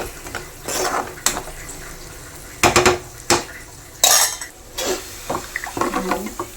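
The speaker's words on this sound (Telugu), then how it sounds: "ఇప్పుడైతే కర్రీలో పసుపు, ఉప్పు వేసి బాగా కలిపేస్తామండి." A spoon stirs a prawn, potato and brinjal curry with turmeric and salt in a metal pot, giving intermittent clanks and scrapes with a faint simmer underneath.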